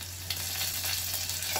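Curry leaves sizzling in hot oil for a tempering with garlic, onion, cumin and asafoetida, a brief soft crackle and hiss over a steady low hum.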